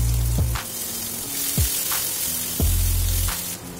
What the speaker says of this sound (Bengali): তেলটা গরম হয়ে গেছে, এবার আমি একটা পেঁয়াজ কুচি করে কেটে রেখেছিলাম সেটা দিয়ে দিচ্ছি।